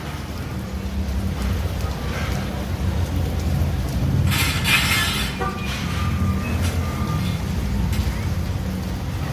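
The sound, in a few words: rain falling during a walk in Pasacao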